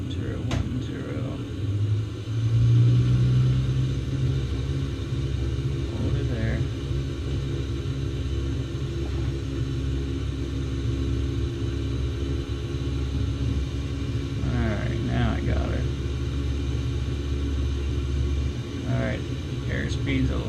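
A Cessna 172R single-engine propeller plane taking off in a flight simulator game: a steady low engine drone and rumble that swells briefly early on and holds through the run, with someone talking over it.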